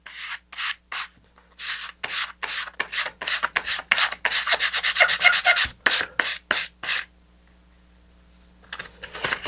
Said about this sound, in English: you should probably wait to do the flat until you get all the fins together so you can stack sand them all at once